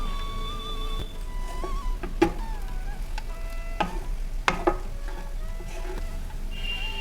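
Ghee-roasted cashews are stirred into tomato rice in a pan with a soft, steady sizzle. A few sharp scrapes and knocks of the spoon against the pan stand out, and faint tonal background sounds run underneath.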